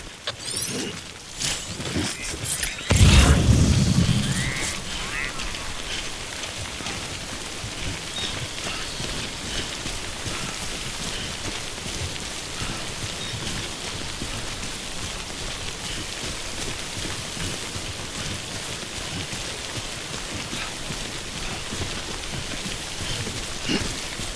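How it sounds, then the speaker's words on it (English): Steady timefall rain in the video game Death Stranding hisses on surfaces for a long stretch, opening with a few sharp clatters and a heavy low thud before settling into an even, dense patter with no talk. "Don't stay out in the rain any longer than you have to."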